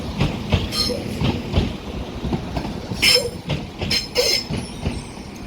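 A Northern class 197 train moves through Manchester Piccadilly station with a clickety-clack of wheels over rail joints and brief high wheel squeals, heard at moderate distance.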